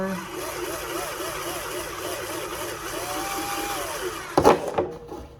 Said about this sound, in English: Gonna drill a little more.